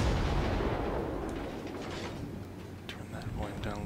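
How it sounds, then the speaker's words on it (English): Naval guns of a USS Sims destroyer in World of Warships, a loud booming salvo at the start that fades into a rumbling tail, with a short crack near the end. "Fire my guns on him."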